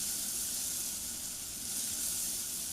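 Sliced spring onions sauté in a pot of fragrant seasoning paste, a steady close sizzle and hiss of frying that holds evenly throughout without a break.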